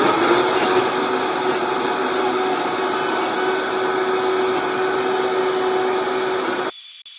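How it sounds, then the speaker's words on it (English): A blender purees cooked cauliflower with a cracked egg into a thick mash, giving a loud, steady whirring motor roar that holds for about seven seconds and then stops abruptly. "crack the egg in here and blend it until it creates a thick puree. So it's gonna be really loud."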